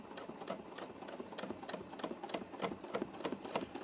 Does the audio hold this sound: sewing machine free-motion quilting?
yes